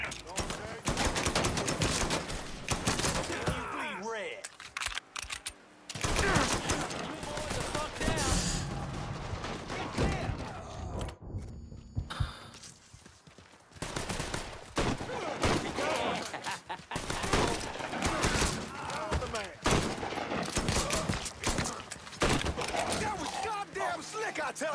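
Dense covering gunfire in the video game Mafia III, rapid bursts of automatic shots crackling loudly and nearly continuously with brief pauses, mixed with in-game voices.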